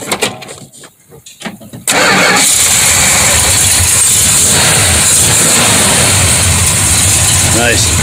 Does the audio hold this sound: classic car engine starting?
yes